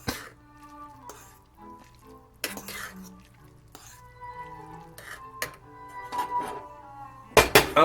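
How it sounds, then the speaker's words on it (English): Instant chashu pork shoyu ramen stirred in a pot, with a few scraping, clinking strokes of a utensil against the metal spread across the moment, loudest at the end, over faint background hum. "I would give it a nice stir."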